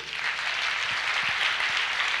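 Steady applause from a church congregation, a dense wash of clapping that continues evenly throughout.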